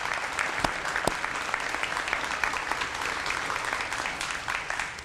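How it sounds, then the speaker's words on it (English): A dinner audience gives a big round of applause for scholarship speakers, a continuous dense patter of many hands, moderately loud and unbroken for the whole span. "So let's give them a big round of applause."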